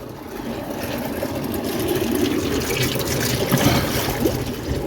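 Water pours into a bucket in a steady, splashing stream that grows slightly louder over a few seconds, heard up close with no talking.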